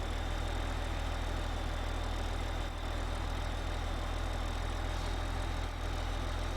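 A tractor engine idles in the Farming Simulator 15 video game, a steady low rumbling drone with constant hum and no variation, playing alone without talk.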